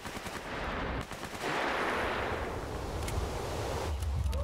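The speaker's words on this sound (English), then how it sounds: "am I being shot at by the enemy, or is the enemy shooting something else?" Enemy fire rattles in STALKER: Shadow of Chernobyl as a dense, continuous burst of machine-gun shots. It roars loud and near for several seconds with a rushing, noisy wash.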